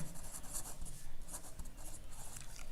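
Marker or chalk writing on a classroom board, quick scratchy strokes in short bursts at a close, fairly quiet level, with no talking.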